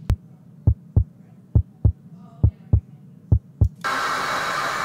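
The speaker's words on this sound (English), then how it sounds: "that's my heartbeat" A video game heartbeat thumps low and heavy, about ten beats in an uneven rhythm, loud and close, then breaks off into a sudden burst of broad noise.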